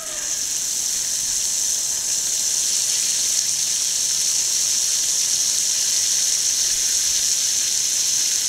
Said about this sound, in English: So let me go turn the water on